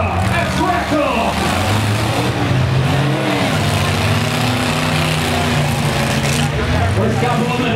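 Trucks revving and racing in a night heat at a motorsport event, with a loud, continuous roar of engines whose pitch rises and falls, and an announcer's voice over the top.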